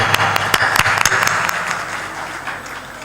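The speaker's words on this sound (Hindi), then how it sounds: "ताली बजा दो।" Applause from an audience at a spiritual discourse by Sant Shri Asang Dev Ji Maharaj, with loud, close clapping and a few sharp individual claps at first, then a gradual thinning and fade.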